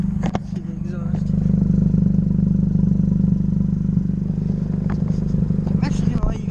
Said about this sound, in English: let's see the exhaust.